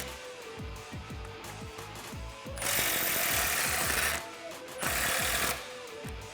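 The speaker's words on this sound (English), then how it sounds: "you can grab your ratchet or an impact and remove this with an extension to clear the tie rod and drag link" Impact wrench working a bolt loose on a Jeep Wrangler TJ during a lift kit install, two loud sustained bursts of rapid hammering with a rattling, ratcheting clatter around and between them.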